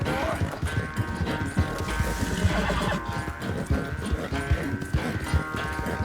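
A white Arabian horse gallops in Red Dead Redemption 2, its hooves clip-clopping in a fast, steady rhythm, close and busy, with no voices over it.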